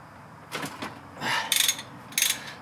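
A ratchet clicks and strains on a Loctite-covered Torx T50 bolt holding a pulley on a C63 AMG M156 engine, giving a few short close-up mechanical bursts with brief pauses.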